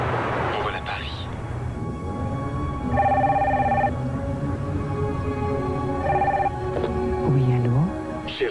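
A Sanyo Compact cordless telephone rings in two short electronic bursts a few seconds apart, heard over music and under a voice talking.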